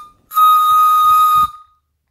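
Homemade pan flute built from drinking straws, blown into one bright, airy whistling tone held for just over a second, close and fairly loud, with faint breathy low noise under it and no talking.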